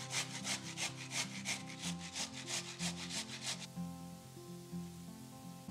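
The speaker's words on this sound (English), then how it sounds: "Using my good old-fashioned grater, we're going to grate the carrot on the medium grate." A carrot being grated on the medium side of an old-fashioned hand grater, rhythmic rasping strokes repeating steadily and close, stopping partway through while a soft background hum continues.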